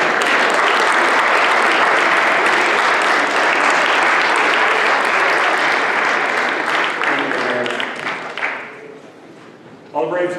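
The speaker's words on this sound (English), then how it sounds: "give your parents a round of applause to show them how much you appreciate them" Loud, sustained applause from an audience at a high school athletic awards ceremony, a thick wash of many hands clapping that fades out near the end before a few final claps return.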